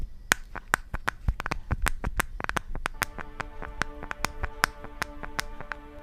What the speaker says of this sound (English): the flimsy, squeaky back cover